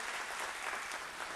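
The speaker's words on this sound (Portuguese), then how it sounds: "Vamos dar para Jesus uma linda salva de palmas, meus irmãos." A brief burst of congregational applause for Jesus at a Portuguese-language praise and worship service, many hands clapping in a dense, even wash, moderately soft and alone.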